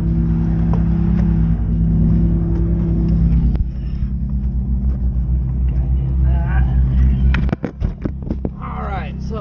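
A Ferrari F430 engine on a driving course gives a loud, close, low rumbling drone that steadies and then drops off near the end. Sharp bursts and voices break in over the engine.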